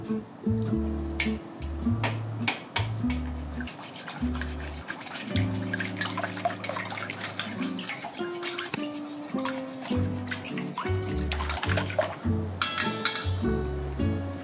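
Beaten egg mixture for a rolled omelette is poured through a strainer, giving close wet dripping and squishing with light clinks of utensils against a bowl, over a steady low hum.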